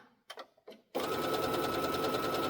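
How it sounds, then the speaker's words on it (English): A sewing machine runs a continuous stitch along a quarter-inch seam around a pincushion. It whirs steadily and close after a few soft handling taps. "we're going to sew 1/4 inch all the way around"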